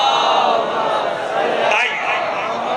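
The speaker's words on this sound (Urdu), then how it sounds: "اس سے بھی بلند آواز سے صلوات بھیجیے۔" At an Eid-e-Ghadeer religious gathering, a large audience recites salawat loudly in unison, a dense, sustained wall of many voices that fills the hall without pause.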